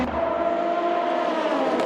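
A race car at Fuji race track drives past, its engine giving a steady, sustained whine at close range that holds level for the whole short stretch.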